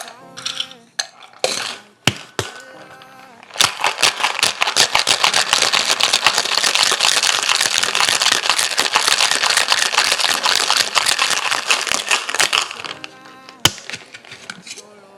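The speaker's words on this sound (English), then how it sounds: "we're gonna add some ice to our shaker tin and chill this drink down" Ice rattles hard inside a cocktail shaker tin. A few loose clinks come first, then a long, loud, fast rhythmic rattle from vigorous shaking, ending in a final knock.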